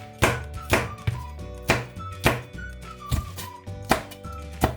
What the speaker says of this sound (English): Now let's chop up some chili.